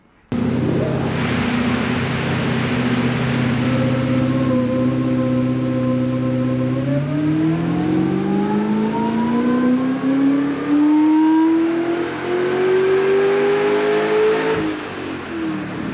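A supercharged Chevrolet C6 Corvette with an Edelbrock E-Force supercharger pulls through a tuning run, a loud sustained engine drone that holds steady and then climbs smoothly in pitch as revs build, easing off near the end.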